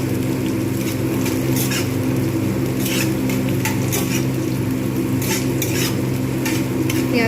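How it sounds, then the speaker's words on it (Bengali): Chopped onions frying in a pan until reddish-brown, a loud, constant close sizzle broken by repeated scraping and clinking of the stirring utensil, without speech. "পেঁয়াজটাকে লালচে করে একদম ভেজে নেবো"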